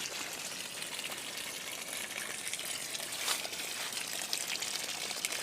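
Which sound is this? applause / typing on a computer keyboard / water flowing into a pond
water flowing into a pond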